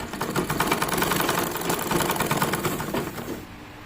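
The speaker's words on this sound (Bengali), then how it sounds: "সব উল্টো করে নিয়ে আমি উল্টো দিক থেকে সেলাই করছি।" A plain domestic sewing machine stitches a square-neck nightie, giving a rapid, even mechanical rattle of needle strokes that runs close and steady for a few seconds before slowing at the end.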